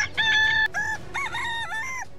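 A rooster gives one loud, close cock-a-doodle-doo crow with several rising and falling stretched notes over about two seconds.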